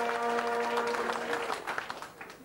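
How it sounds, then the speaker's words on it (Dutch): Audience applause at a village variety evening, dense clapping from a crowd that thins out toward the end, with a sustained tone ringing underneath at first. "een hard applaus"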